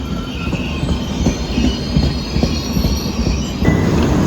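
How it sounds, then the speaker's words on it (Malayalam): An express train from Thiruvananthapuram Central to Mangalore Central, hauled by a WP7 locomotive, rumbles steadily into Trikaripur station, its wheels rolling and faintly squealing close by at a constant loud level. "ലാലാഗുഡയുടെ WP7 ആയിട്ട് ഇപ്പോൾ തൃക്കരിപ്പൂർ എത്തിയത് 163-47 നമ്പർ തിരുവനന്തപുരം സെൻട്രൽ നിന്ന് മംഗലാപുരം സെൻട്രലിലേക്ക് വന്ന എക്സ്പ്രസ് ആണേ"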